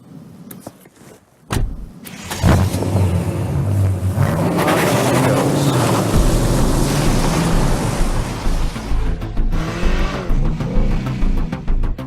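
A BMW 8 Series 4.4-litre twin-turbo V8 petrol engine starts with a sharp burst, then settles into a deep, loud, steady idle with a rich low rumble, close up and no talking.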